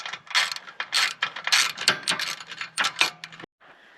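A ratchet wrench works bolts down on an electric tongue jack, a run of quick mechanical clicks in bursts of strokes, close and fairly loud, ending in a short pause.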